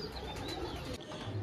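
A pair of pigeons kept for sale, a faint low cooing over a hushed background.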